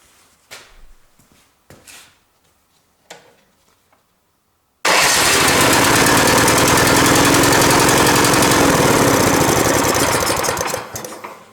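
A few faint clicks and pulls, then a new snow blower's small engine, after a fuel-related starting fault is fixed, roars to life and runs loudly and steadily before cutting off at the end.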